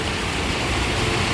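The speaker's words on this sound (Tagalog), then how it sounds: "Ang lakas ng ulan dito." Heavy rain pours down in a steady, dense hiss with no breaks, loud and close throughout.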